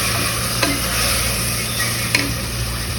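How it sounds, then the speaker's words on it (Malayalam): Onions fry with tomato and ginger added, a steady close sizzle with a couple of soft stirring scrapes, no voices. "സവോള ഒന്ന് വെന്ത് വരുമ്പോൾ നമുക്ക് തക്കാളിയും ഇഞ്ചി ഇട്ട് കൊടുത്തൊന്ന് വേവിച്ചെടുക്കാം"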